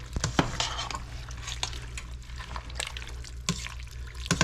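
A utensil stirs spicy cabbage soup in a pot, giving close, irregular liquid sloshes and light scrapes and clinks against the pot with no talking.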